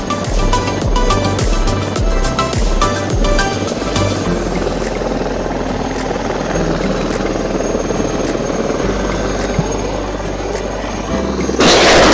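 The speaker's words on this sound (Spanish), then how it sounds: "va a visualizar un entrenamiento de tiro de helicópteros" A Mi-35 military helicopter flies during a firing training exercise, its rotor beating loud and continuous throughout, with sharp thumping bursts early on and the roar swelling again at the end.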